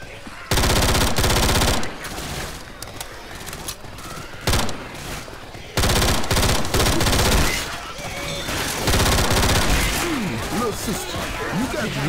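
Bursts of automatic gunfire from the zombie shooter Left 4 Dead 2, with loud sustained volleys, brief pauses and a single sharp shot between them, under chaotic game sounds and voices.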